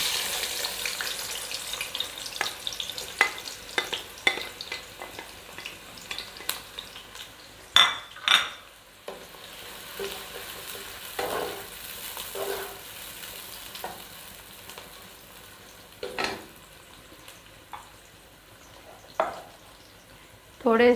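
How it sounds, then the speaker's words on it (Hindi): Chopped onions dropped into hot oil in a home kitchen, frying with a steady close sizzle, punctuated by stirring scrapes and clinks of a utensil against the pan. "अब ये गरम ऑयल में प्याज डाल"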